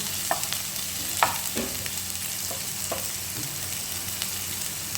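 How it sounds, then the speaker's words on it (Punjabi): Onions frying in a pan for a mango curry, a constant moderate sizzle with scattered spatula scrapes and clinks as the pieces are stirred, no voices. "ਇਹ ਪਿਆਜ਼ ਭੁੰਨਦੇ ਆ"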